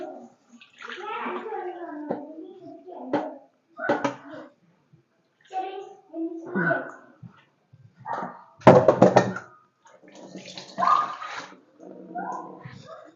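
Water poured into a pan holding dried curry paste for a beef dish, a short splashing pour among speech, with a dog barking briefly in the background.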